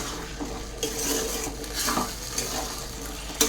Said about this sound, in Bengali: বুটের সঙ্গে মশলাটা সুন্দর করে কষিয়ে নেব আরও একবার।